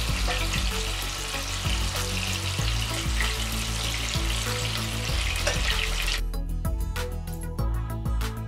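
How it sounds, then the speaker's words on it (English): Pieces of pointed gourd frying in hot oil in a pan, a loud, dense, continuous sizzle and crackle throughout with a faint rhythmic knocking underneath, no speech. "Fry them till they are golden brown."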